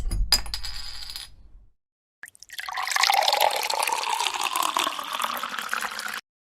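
Chilled, double-filtered water pours steadily into a brewing pot being filled to about 12–13 litres, a continuous splashing rush lasting several seconds after a brief clatter of handling at the start.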